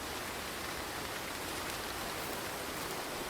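Steady rain falls in a survival video game, an even, dense hiss with no breaks, moderately loud and continuous throughout.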